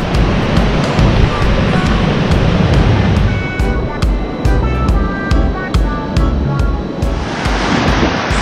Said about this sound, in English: Fat bike on the beach.